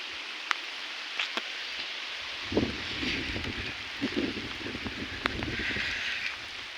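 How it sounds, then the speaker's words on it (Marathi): Rain falls on a farm field by a hut in a continuous soft hiss with scattered drops and rustling patters nearby, a few sharper taps breaking through. "पाऊस आला आता चांगलाच पाऊस आला"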